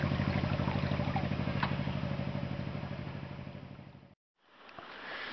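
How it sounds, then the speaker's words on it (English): A low, steady boat engine putters in the distance along the Turkish coast with a rapid regular thump, fading slightly before cutting out briefly, then a softer hum returns. "the sound of the boats in the distance"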